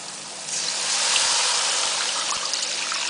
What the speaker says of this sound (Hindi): तो अब इसमें ये 6 गिलास पानी हमने इसमें ऐड किया।